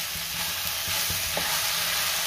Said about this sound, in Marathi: चवीनुसार मीठ घालूया। पुन्हा सगळं व्यवस्थित मिक्स करून घेऊया।